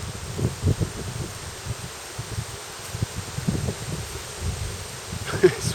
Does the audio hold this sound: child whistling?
no